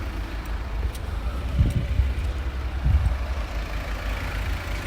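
A low, steady diesel engine rumble heard from inside a car, with a couple of slight swells in the drone.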